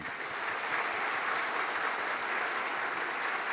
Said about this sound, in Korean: 우리 인사하실 때 큰 박수로 격려하도록 하겠습니다.